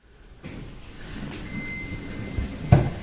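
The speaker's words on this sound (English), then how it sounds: "Elevator D, going up. Doors closing." Kone double-deck elevator doors slide closed with a low rumble and a soft thud near the end, heard up close inside a 26-floor building, while a faint tone sounds.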